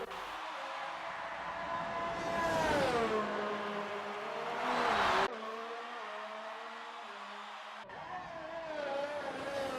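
A Formula 1 race car in a league racing video game on the Azerbaijan circuit revs loudly through rising and falling gear changes, the engine cutting off abruptly twice before climbing again.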